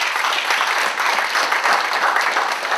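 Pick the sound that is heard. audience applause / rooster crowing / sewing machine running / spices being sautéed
audience applause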